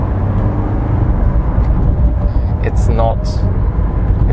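A 1990s Mercedes-Benz 230E W124 sedan accelerates at full throttle, its engine and road rumble loud and steady from inside the cabin, with someone talking over it.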